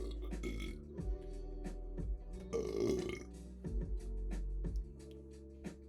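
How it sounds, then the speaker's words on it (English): A man's burp rises out of a low, steady background hum near the middle, a single rough, throaty belch lasting under a second, fairly close and clear. "Sorry guys, let me mute my burp."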